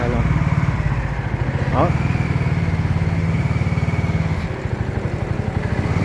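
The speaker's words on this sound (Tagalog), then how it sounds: "ganda rin tunog ng makina" A 250cc cargo motorcycle engine putters loudly and steadily up close, a rhythmic mid-pitched thrum, with a brief voice speaking over it.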